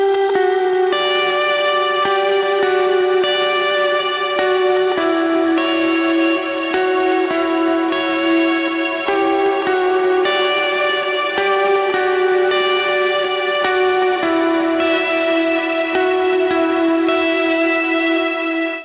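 A clean-tone electric guitar plays a simple sustained melody line for a bridge, each note ringing out into wide reverb and delay repeats, steady and loud with no voices.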